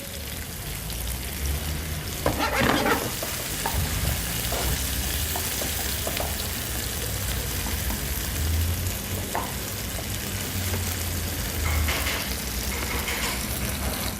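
Tomato sizzles steadily in a pan while seafood paella cooks, a continuous frying hiss with occasional stirring scrapes, close and fairly loud with no talking.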